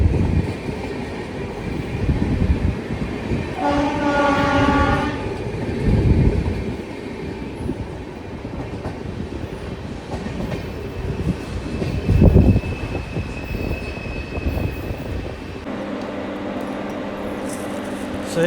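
The 20452 Sogaria Intercity SF Express runs on rails near Hindaun City on the Delhi–Kota route. A steady rumble and rattle of the moving coaches is heard from on board, with voices talking at times.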